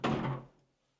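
A door onto a roof terrace in a new-build apartment house in Croatia swings open with a single close, heavy thunk and rattle that decays quickly into quiet.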